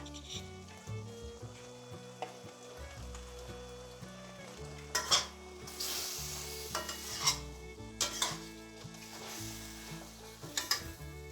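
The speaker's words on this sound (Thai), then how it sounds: "ผัดให้ทั่วเลยค่ะ" Steady sizzling of cut squid stir-frying in a pan, with intermittent scraping and clanking as a utensil stirs against the metal.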